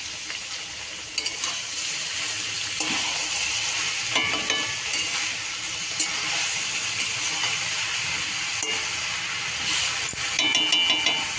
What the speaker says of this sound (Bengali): সিদ্ধ করে রাখা বাঁধাকপি ছেড়ে দিলাম